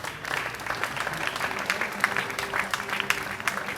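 A church congregation claps and cheers in praise of the Lord, a steady dense wash of applause at moderate level lasting throughout, with faint voices mixed in.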